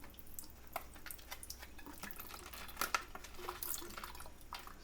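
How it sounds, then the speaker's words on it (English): Water runs through a container in a sink, trickling and splashing steadily with scattered drips and small splashes, fairly quiet and close. "you can just kind of let the water run through the container"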